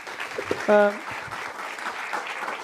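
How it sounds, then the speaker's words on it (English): An audience at a sports excellence workshop gives a short burst of steady applause, moderately loud, with a voice briefly sounding over the clapping. "An applause for Moshe and also for Alexis."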